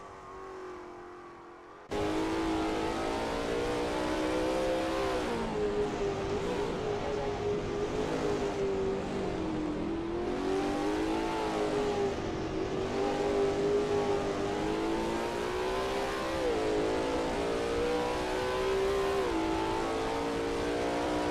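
A Lola T70 MkII Spyder race car roars in a racing sim at Bridgehampton, its engine cutting in after two seconds and droning loud and close, pitch rising and falling through gear changes.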